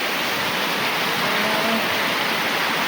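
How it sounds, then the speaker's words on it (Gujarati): Heavy monsoon rain pours down in a dense, constant roaring hiss, loud and close, with no distinct thunderclap and no talk. "વરસાદના કડાકા ને ભડાકા થાય છે।"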